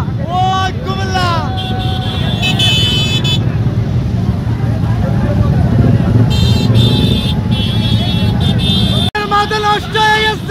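Crowds of motorcycles filling the Comilla Biswa Road during a bikers' rally and road show, loud continuous engine drone with repeated horn toots and honks, people shouting and talking over the din.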